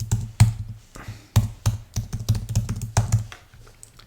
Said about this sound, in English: So let's type a password